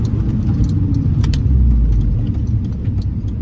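An R53 Mini Cooper S with an upgraded crankshaft pulley accelerating along a straight road, heard from inside as a loud, steady low engine rumble and road drone with faint rattles, no talk.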